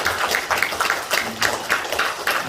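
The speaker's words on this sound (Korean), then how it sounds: "우리 같이 한번 박수해서 환영하도록" A church congregation at a Sunday service claps to welcome newcomers, with steady, evenly spaced claps in a roomy, somewhat distant space and no voices over them.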